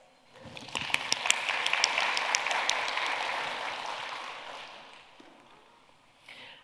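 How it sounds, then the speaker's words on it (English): An audience at a design talk applauds participants after a rubber-band exercise. The clapping swells quickly, holds as a full steady patter for a few seconds, then tapers away, with no one speaking over it. "you all deserve a round of applause."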